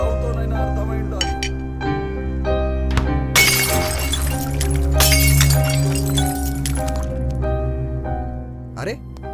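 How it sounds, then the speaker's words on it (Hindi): Glass bottle breaking in a dubbed South Indian film scene, a loud crashing shatter burst lasting a few seconds over steady music and background sound, with voices nearby. "तेरा लाया हुआ बोतल फूट गया।"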